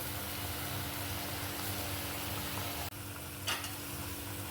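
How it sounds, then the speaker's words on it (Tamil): Boiled potatoes stirred into a pan of boiling water while making potato kizhangu: a steady, dense bubbling hiss that runs throughout, with one brief scraping stir near the end. "ஒரு கொதி வந்த உடனே இந்த வேக வச்ச உருளைக்கிழங்கு அதில் போட்டு மிக்ஸ் பண்ணும்"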